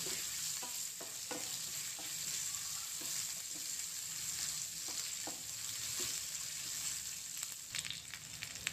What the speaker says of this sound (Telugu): కట్ చేసుకున్న చిన్న ఉల్లిగడ్డలు వేసేసుకుంటున్నాను. ఉల్లిగడ్డలు బ్రౌన్గా బాగా యాగనివ్వాలి రసంలోకి.